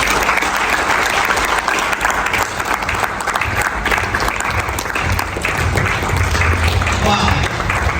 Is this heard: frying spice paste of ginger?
no